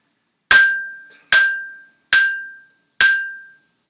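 Four separate mallet strikes on resonant bars, each ringing out clearly with a bright, sustained tone and fading before the next, evenly spaced, close and alone.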